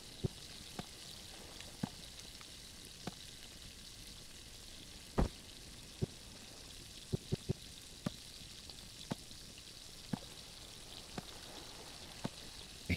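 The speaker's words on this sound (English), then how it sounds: "I think that little sizzling will stop once sausages are cooked" Sausages sizzling in a pan in the video game Blight, a soft steady frying hiss broken by scattered small pops and crackles, heard alone at low volume.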